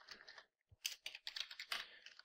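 Quiet, close typing on a computer keyboard, irregular bursts of clicking keystrokes with a brief pause, no speech over it.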